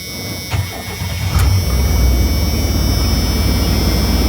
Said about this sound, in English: then we're gonna fire this up